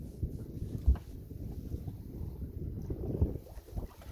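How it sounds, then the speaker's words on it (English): Sailboat under way on open water during a training trip, with a soft continuous wash of water and wind buffeting the microphone, a few low thumps and no talk. "We are sailing, YouTube."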